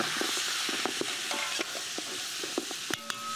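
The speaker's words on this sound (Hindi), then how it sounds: "जब तक आप लैम्ब को भूनेंगे नहीं फ्लेवर नहीं आएगा. You have to saute it nicely." Lamb sautéing in a pot for Hungarian goulash, a continuous sizzle punctuated by repeated clicks and scrapes of stirring, no talk.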